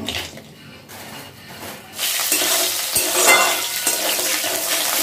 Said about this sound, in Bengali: আমি পাঁচফোড়ন দিচ্ছি, পাঁচফোড়নও দেওয়া যায়। আর দেবো একটা শুকনো লঙ্কা, দিচ্ছি বড়ি